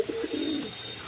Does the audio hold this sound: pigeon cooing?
yes